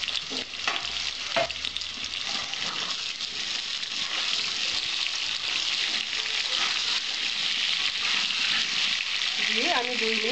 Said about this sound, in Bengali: মেখে আমি আলুটা তেলে ছেড়ে দেবো।